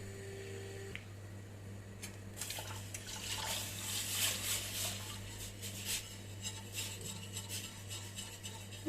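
About 1 litre of water pours and splashes into a small pot in a steady rush, close by, over a low constant hum, while making mushroom soup.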